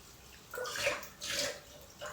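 Mushrooms being washed in water for a mushroom chilli dish, with a few short splashing and swishing bursts of water, close by and moderately loud, with no talking.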